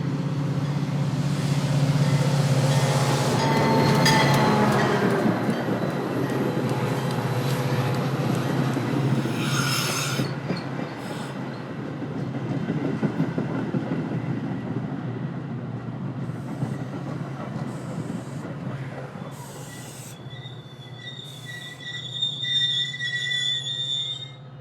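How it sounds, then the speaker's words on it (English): A Union Pacific North line commuter train to Kenosha rumbles in and slows to a stop, wheels squealing and rails clanking, followed by hissing air brakes and a chime near the end. "UP North train number 823 to Kenosha is now arriving."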